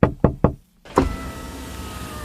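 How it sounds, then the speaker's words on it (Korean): Knuckles rap three times in quick, even succession on a car window, close and sharp, then a fourth louder knock lands after a brief silence. "다음날 그녀의 친구가 창문을 두드렸어요."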